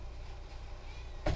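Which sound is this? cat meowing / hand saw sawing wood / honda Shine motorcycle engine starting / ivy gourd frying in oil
cat meowing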